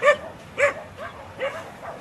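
A dog barks three or four times in sharp, close yips spaced about half a second apart, with a faint whimpering quality between barks.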